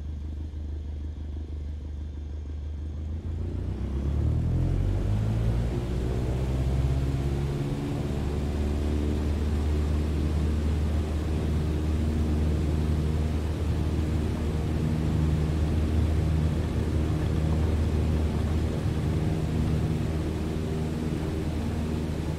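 An aircraft engine spooling up for takeoff in Microsoft Flight Simulator: a low drone that swells after a few seconds into a steady, loud rumbling roar with rising whine, sustained to the end with no voices.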